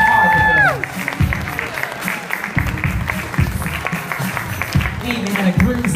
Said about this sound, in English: Keep the round of applause going.